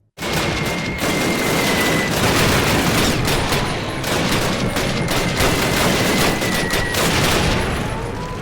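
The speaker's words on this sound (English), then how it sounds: "the gunfire in this game is deafening" Dense, continuous gunfire roars loudly in the original 2003 Call of Duty video game, overlapping bursts and booms in a chaotic battle din that barely lets up.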